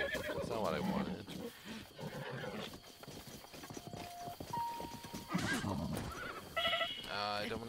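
Horses in Zelda Breath of the Wild clop and whinny nearby, a couple of distinct neighs rising over hoof beats while a person talks in between.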